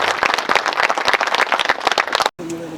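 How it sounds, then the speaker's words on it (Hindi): Dense, steady applause greets the IG at a battalion cultural program. A crowd claps briskly for over two seconds, ending in a sudden cut, with only a faint tonal hum afterwards. "जोरदार तालियों से स्वागत का स्वागत।"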